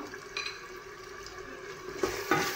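Chopped herbs and mint fry in a pan for a vegetable soup, a soft steady sizzle with gentle stirring and a couple of louder scrapes near the end, close and without talk.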